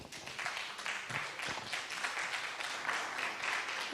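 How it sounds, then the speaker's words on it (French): Soft, steady audience applause at a speech and trophy presentation ceremony, a distant wash of clapping holding for several seconds with faint voices underneath. "Sous vos applaudissements."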